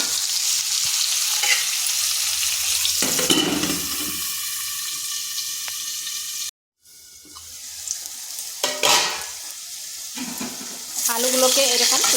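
Potatoes with turmeric and salt fry over medium heat, a close, loud sizzle interrupted by a brief silence, then resuming with clattering, lid and utensil knocks and bursts of crackling.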